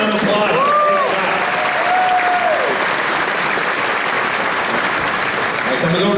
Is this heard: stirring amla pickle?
no